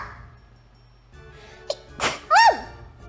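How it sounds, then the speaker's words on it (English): A single sharp sneeze bursts out near the end after a quiet stretch with a couple of small breaths and sniffs, close and loud, with a rising squeaky vocal tail. "I have to sneeze."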